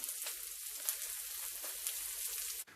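Bacon fries in a pan and gives off plenty of fat, producing a steady close sizzle with crackling pops that cuts off abruptly at the end.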